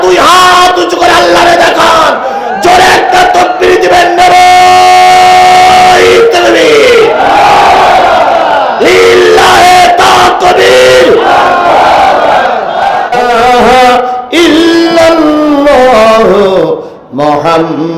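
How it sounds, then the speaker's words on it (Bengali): A large crowd at a religious sermon roars a loud takbir in unison, sustained chanted shouting that fills the space, swelling and dipping in waves with brief breaks. "জোরে একটা তাকবীর দিবেন।"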